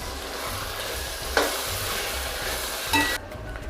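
A spatula stirs salted vegetables in a sizzling pan while making vegetable biryani, a steady close frying hiss with a couple of sharper scrapes against the pan.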